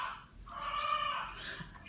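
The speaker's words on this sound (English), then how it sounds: "You can hear my chicken Dolly in the background." A hen clucks and squawks in agitated, drawn-out calls that rise and fall over a steady low background, fairly close and clear for most of the stretch.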